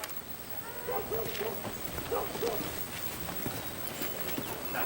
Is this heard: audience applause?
no